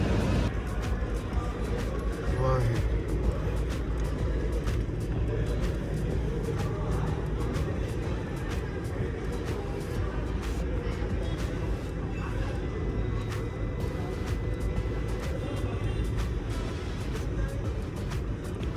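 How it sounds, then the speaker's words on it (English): A Mercedes G-Wagon idles just after delivery, its low engine drone steady and continuous beneath faint cabin and road noise, with occasional light clicks. "Car is now on and you can see we're ready to go."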